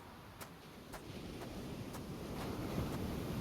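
Wind gusting through the air in the game Hades, a steady broadband whoosh that swells slightly louder toward the end, with faint periodic ticks, no voices.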